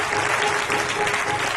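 A church congregation applauds, dense continuous clapping from many hands filling the space at a fairly loud, steady level, with a faint sustained tone underneath.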